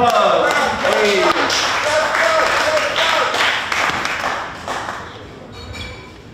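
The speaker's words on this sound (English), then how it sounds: "Everyone give a round of applause." Audience applause at an evening talk show fundraising event, a dense crowd clapping loudly and steadily before tapering off toward the end, with scattered voices mixed in.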